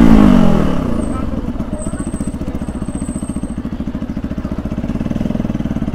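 RS motorcycle engine running steadily at idle with a fast, even low thump, loud and close, a brief rev swell at the start, no talk over it.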